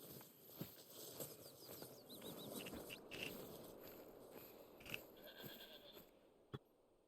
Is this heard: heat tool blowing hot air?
no